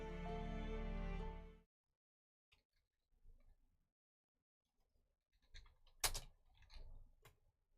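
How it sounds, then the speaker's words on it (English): Loud typing on a computer keyboard, with hard, heavy spacebar hits: scattered clicks and a louder cluster of keystrokes near the end, after a sustained tonal music-like passage at the start. "I apologize. I type very loudly."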